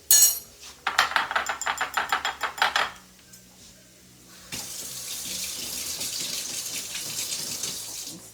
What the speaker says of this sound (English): Let me rinse my spoon off.